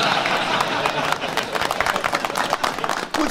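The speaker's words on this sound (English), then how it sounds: "What's the minute of applause for?" A crowd holds a minute of applause for the players in a 2008 Scottish comedy sketch. The clapping is loud and sustained, mixed with crowd noise and sharp individual claps throughout.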